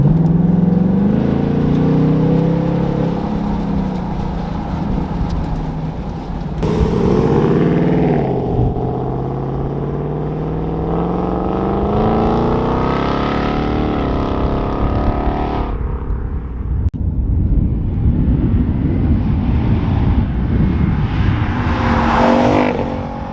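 Loud supercharged 700 hp V8 of a 2020 Ford Mustang GT revving and accelerating through gears in track exhaust mode, pitch sweeping up and dropping with abrupt shifts, a deep throaty exhaust roar continuing throughout.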